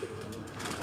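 Pigeons on a rooftop loft coo faintly in a brief low murmur under a light wash of background noise.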